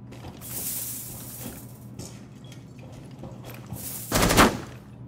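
Automatic gunfire in a Rainbow Six Siege match on the Plane map, loud bursts of rapid shots with mechanical clatter, the heaviest burst near the end, no talk.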